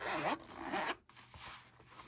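A zipper on a black Sailor pen case is pulled open in two long rasping strokes, followed by softer fumbling and a shorter zip, close up with no voices.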